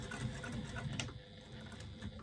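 Sewing machine stitching through faux leather on a zipper placket at a short stitch length, a steady, close whirring patter that eases briefly before a sharp click at the end, with no talk.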